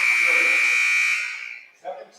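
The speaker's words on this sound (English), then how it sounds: "this is the second time the buzzer went off" A loud, sustained electronic timer buzzer sounds in a high school gymnasium during a volleyball match, holding steady for over a second before fading, followed by a brief thud.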